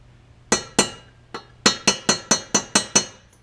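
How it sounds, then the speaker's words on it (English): A metal punch lightly taps a check ball inside a Rochester 4-Jet carburetor during a rebuild: nine crisp, bright metallic clinks, first spaced apart, then in a quicker even run, close and clear with no talk. "Very light tap. Just get yourself a punch like so."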